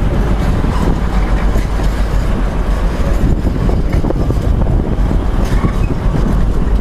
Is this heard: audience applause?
no